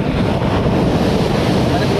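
Ocean surf washing onto a shore in a steady, continuous roar of breaking waves, with gusty wind buffeting the microphone throughout.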